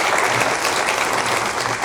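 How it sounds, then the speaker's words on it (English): A warm round of dense, continuous applause from an audience at a Bethel program honoring four panel speakers, a full wash of many hands clapping at once with no gaps. "Can you all please give another warm round of applause for Alice Saunders, Dr. Hillary Van Dyke, Attorney Stephanie Franklin, and Patricia Myers-Tedesco."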